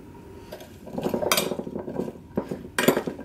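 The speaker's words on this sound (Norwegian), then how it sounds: "Jeg bare rører sånn at olja skal dekke." Diced potatoes being stirred with oil, paprika and chili in a frying pan for pytt i panne, with a spoon scraping and clinking against the pan in uneven bursts, close by, no talk.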